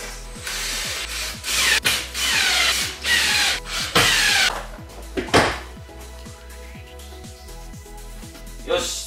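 Diagonally cut wooden French cleat strips are fitted to a workshop wall, with repeated scraping and rubbing of wood in bursts and a steady run of small regular clicks underneath, close and fairly loud.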